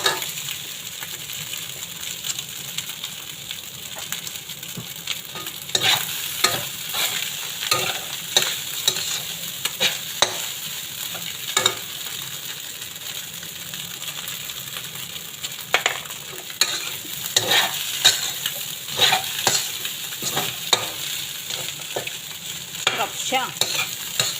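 Fried rice being stir-fried in a pan makes a continuous close sizzle broken by frequent rhythmic clinks and scrapes of a spatula against the metal, running steadily throughout.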